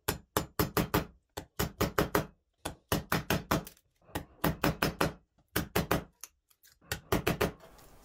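Chisel being struck to cut 5 mm recesses in wood for a bearing screw on a homemade wooden band saw, heard as repeated close, sharp knocking blows in quick bursts of three to five with brief pauses, no talking.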